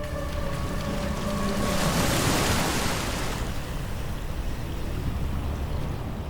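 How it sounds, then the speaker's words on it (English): Wind and rushing water roar steadily over a low engine rumble, with a brief tonal whine early on and a surge of spray midway. "Wind gusts, engines roar, racing against time."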